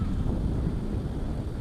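Steady wind buffeting the microphone at a riverside fishing spot with current, a continuous low rumbling roar with no let-up, loud and close throughout.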